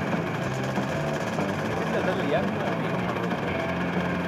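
A motorcycle engine idles steadily throughout with a low, constant rumble, while voices are faintly audible in the background.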